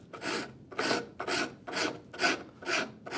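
A rasp shaping a wooden saw handle in six firm, evenly spaced push strokes, each a loud close rasping burst with short pauses between.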